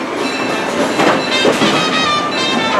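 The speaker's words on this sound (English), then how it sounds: "please remain seated until the train comes to a complete stop" Disneyland Railroad train rolling near New Orleans Square Station, a loud, close clatter of wheels over track joints with faint metallic squeals, continuous and without talk.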